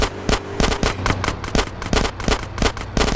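Rapid bursts of gunfire from a weapon in the video game GTA San Andreas, a dense string of sharp cracks fired in quick succession throughout.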